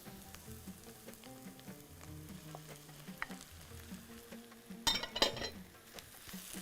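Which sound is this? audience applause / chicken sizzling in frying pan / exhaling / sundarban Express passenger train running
chicken sizzling in frying pan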